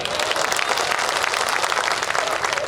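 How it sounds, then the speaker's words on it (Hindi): Audience applause at an international mushaira and kavi sammelan poetry gathering, a steady dense wash of many hands clapping together, fairly loud and continuous for the whole moment with no voices on top. "एक बार जोरदार ताली बजाइए।"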